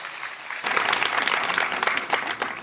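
A crowd at a kavi sammelan poetry gathering breaks into applause after a quiet start, a dense, even clatter of many hands sustained through to the end, with no talking over it.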